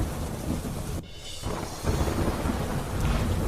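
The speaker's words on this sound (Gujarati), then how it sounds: "ખેડા જિલ્લામાં ધોધમાર વરસાદ" Heavy monsoon rain with strong wind pours down in Kheda district, Gujarat, a dense, loud, continuous roar with a low rumbling undertone and a brief dip partway through.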